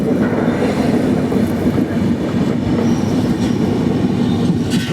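A Nanded–Santragachi superfast express rumbles along near Adityapur industrial area, Jamshedpur, with steady low wheel roar and faint clatter heard from on board, continuous and moderately loud, no voices.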